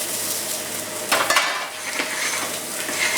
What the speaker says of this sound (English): I'm going to char grill the mushroom as well